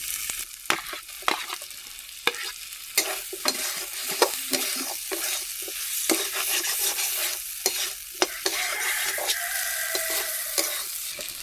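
Fried potatoes being stirred into a sizzling masala for a small morola fish curry, a spatula scraping and clanking against the pan in irregular strokes over a steady, bright frying hiss.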